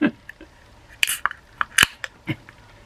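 A can of Lizzie Borden 81 Whacks IPA cracked open up close: a few sharp metallic clicks and a brief hissing snap stand out against near silence.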